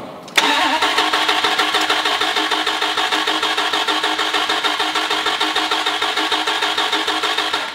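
A Dodge Viper engine cranks and fires up with a sharp start, then settles into a loud, steady, rhythmic idle that pulses evenly until the end.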